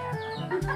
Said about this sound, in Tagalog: Magkakatay kami ngayon ng native na manok.